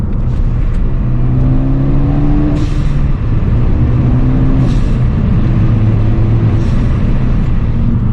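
Car with a COBB rear motor mount downshifting while driving, engine note rising and falling through revs over steady road and cabin rumble, heard from inside the vehicle without talk.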